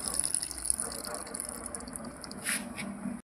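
Lime juice is poured into a pot of tom yum, making a faint, steady trickling and splashing of liquid that swells briefly near the end before stopping abruptly.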